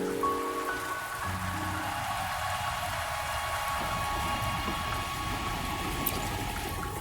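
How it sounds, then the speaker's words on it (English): Steady rain falling in a fantasy video game scene, a continuous soft hiss of drops pattering on surfaces, even and unbroken throughout with no voices. "Don't worry, the rain won't last much longer."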